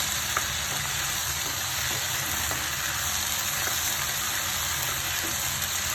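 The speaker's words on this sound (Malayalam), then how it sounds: "എണ്ണ തെളിയുന്ന വരെ ഒന്ന് വഴറ്റിയെടുക്കാം" Okra and tomato sautéing in oil for a Kerala theeyal, a dense, even sizzle with faint bubbling that holds steady at close range, with no talking.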